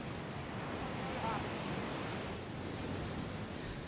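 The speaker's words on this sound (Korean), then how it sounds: "거친 파도가 부서지는 대서양" Rough Atlantic surf breaking along the coast at Accra, Ghana, heard as a steady, dense roar of waves and spray that holds level throughout with no voices.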